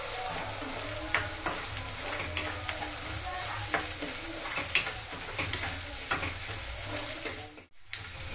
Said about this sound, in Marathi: छान असं परत पुन्हा एकजीव करून अद्रक लसूण परतून घ्यायचं आहे आपल्याला.